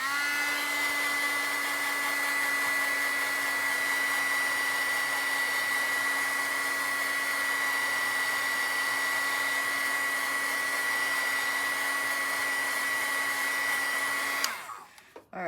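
A hair dryer blows steadily on artwork, a loud constant whine and airy rush close to the microphone that runs unbroken, then is switched off abruptly near the end.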